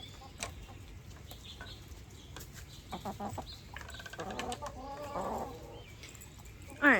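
Backyard garden hens cluck and squawk in short bursts, quiet at first and then building into a busier run of calls, with a sharp louder squawk near the end.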